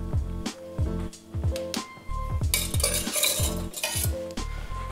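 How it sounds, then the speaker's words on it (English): A bar spoon swirls through a Paloma cocktail topped with soda, rattling ice against the glass in a quick series of close, rhythmic clinks, with a burst of fizzing from the soda midway through. "Just a quick stir."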